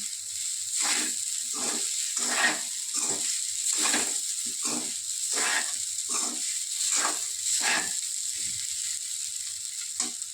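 Kanda poha, flattened rice with onion, is sautéed in a pan with a constant hissing sizzle, broken by a dozen or so rhythmic scraping stirs at about one-second intervals.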